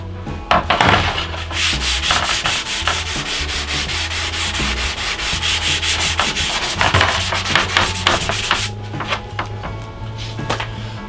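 An object is scuffed with an abrasive to build a scratch layer before spray painting, with loud, close, rapid back-and-forth rubbing strokes that continue steadily and then stop, leaving a low hum.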